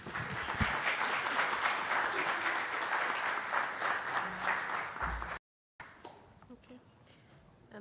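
Audience at the Seychelles Tuna Conference 2025 gives a conference panel a loud, sustained round of applause. It breaks off briefly, then returns as softer, thinner clapping.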